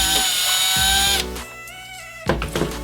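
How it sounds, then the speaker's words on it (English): A power drill whines loudly at high speed drilling through the side of a plastic Fisher-Price Light Up & Learn Owl toy, then cuts off abruptly, followed by a few scraping and clattering handling sounds. "drill a hole through the side of the toy"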